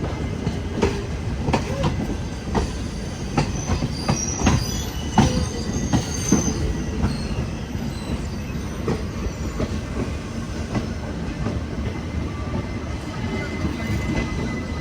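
Donyi Polo Express sleeper-class train running on the line between Naharlagun and Dimapur, with a steady loud rumble of coaches, squealing wheels and rail clatter throughout, heard from on board.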